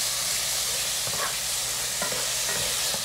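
Chicken for lettuce wraps sizzles in a pan while it is stirred continuously. A steady, close hiss of frying runs throughout, broken by a few soft scraping and clacking stir sounds, with no talk.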